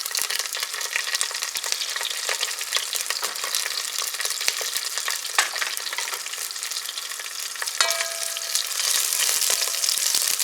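Dry chilies fry in hot oil for a South Indian tomato rice, giving a steady, loud, close sizzle with crackling pops throughout and no voices.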